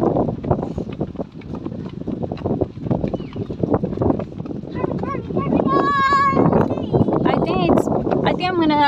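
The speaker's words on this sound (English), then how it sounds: "put the umbrella away now because it's really windy" Gusty wind buffets the microphone outdoors near a park, roaring in uneven surges under the voices of a family with children talking.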